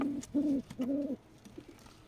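A pigeon in a coop gives two low, throaty coos in close succession, followed by a softer trailing murmur, close and fairly quiet with no talking.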